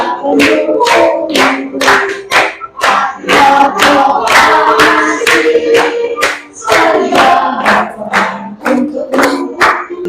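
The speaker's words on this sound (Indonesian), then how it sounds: "iya, tepuk tangan" Children in a classroom clap their hands together in a quick, loud, rhythmic burst of many sharp claps, with a singing voice faintly mixed in.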